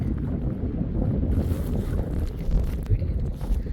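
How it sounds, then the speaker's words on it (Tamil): Strong wind near the sea at a pink lake in Oman buffets the microphone with a heavy, gusting low roar that swells and dips throughout. "பட் பயங்கர காற்றடிக்குது"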